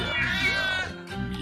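A cat gives a drawn-out, wavering meow, loud and close, followed by a shorter second call after a brief pause.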